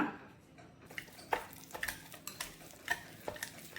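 Thick hung curd is beaten in a bowl for strawberry shrikhand, producing quiet irregular scraping strokes and light clinks of utensil on the vessel, close and soft.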